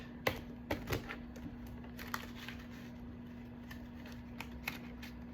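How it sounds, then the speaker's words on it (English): A deck of crystal-themed cards is test-shuffled, giving a few sharp riffling snaps and soft clicks, close but faint, spread over a few seconds against a low steady hum. "Sometimes with the cards you have to like have like a test shuffle."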